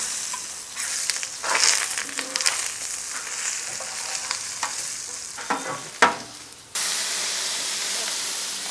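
Fish frying in a pan and being stirred, with an intermittent sizzle and scraping stirs, then a loud clatter and a sudden steady hiss of frying.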